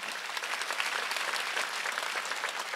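A church congregation claps together during a Wednesday worship service, a dense, continuous burst of applause filling the hall for a few seconds.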